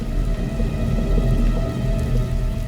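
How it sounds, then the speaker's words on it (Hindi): Steady, heavy monsoon rain pours down on a forest continuously with a dense hiss and low rumble, no voices, filling the whole stretch evenly. "जहां पर बारिश का पानी जंगल में जानवरों के लिए खतरे की तरह बरसता है"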